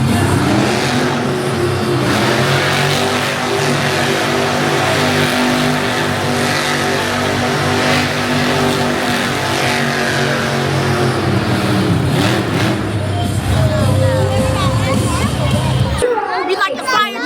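Monster truck engines revving at a live show, loud sustained roaring with rising and falling pitch, crowd babble underneath, cutting off abruptly near the end.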